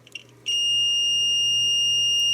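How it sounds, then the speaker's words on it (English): After a short click, a riding lawnmower's key switch, turned to the spring-loaded starter position, gives a loud, steady high-pitched electronic beep that holds without a break. "You'll notice that when I turn to the spring-loaded starter position, it beeps."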